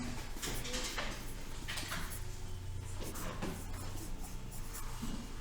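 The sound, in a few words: writing with a pen on paper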